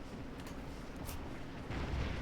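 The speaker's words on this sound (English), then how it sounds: "we see some cannons being shot" Cannon fire from Civil War artillery at the Battle of Antietam's Sunken Road in the Scourge of War: Antietam game, heard as low rumbling booms over a steady battle din, swelling louder near the end.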